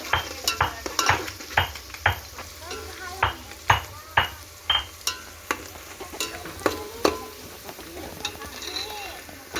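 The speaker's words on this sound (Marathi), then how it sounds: "गरम मसाला, इलायची, सर्व याला मिक्स करून घेऊया." Biryani is stirred with garam masala and cardamom in a pot, a quiet frying hiss punctuated by a steady run of spoon knocks and scrapes against the vessel.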